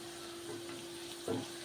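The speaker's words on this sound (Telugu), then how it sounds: "చూడండి ఇంకా వేగుతూనే ఉన్నాయి ఇంకా బాగా వేగాలండి" Okra (bhindi) frying in a pan, a brief close sizzle with a faint crackle and one slightly louder burst near the end.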